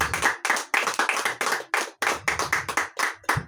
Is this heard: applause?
yes